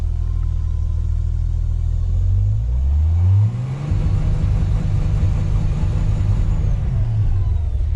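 A race car engine revved against its limiter while still cold, a loud, steady low rumble that dips briefly and climbs back to a constant buzzing hold close by.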